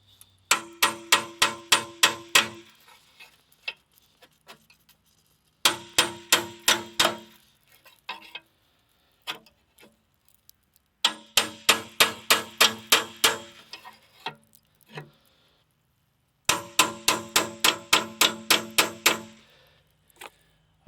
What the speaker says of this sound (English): I'm hitting it with a very small hammer.